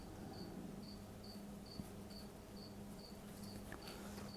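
A cricket chirps in steady, evenly spaced pulses inside a reptile shop enclosure at night, faint against a low background hum.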